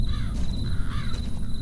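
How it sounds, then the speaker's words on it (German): Crows caw twice in the video game Hunted: The Demon's Forge, harsh calls rising over a dense, dark ambient drone. "Und die Krähen melden sich auch zu Wort."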